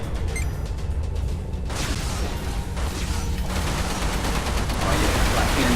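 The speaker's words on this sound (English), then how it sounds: "Shooting my flak cannon at this guy." Rapid bursts of heavy flak cannon fire from a spaceship in the VR game Everspace boom continuously, loud and close, with a dense rumbling roar and no pauses between shots.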